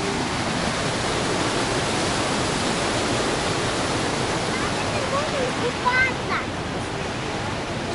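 Broad, steady roar of falling water from a waterfall at the Eagle Rocks on the Agura river, rushing continuously and close by, with faint voices briefly rising over the torrent.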